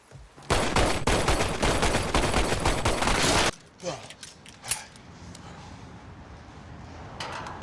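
Sustained burst of heavy automatic gunfire from a shootout in the film Bright, loud and dense for about three seconds, then cutting off to a quieter scene with scattered thuds and movement.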